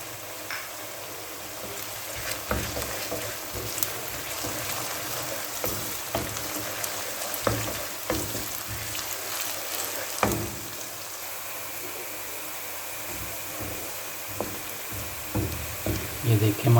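Onions and garlic frying in a pan, a steady moderate sizzle with scattered crackles and occasional stirring clatters, close and without speech over it.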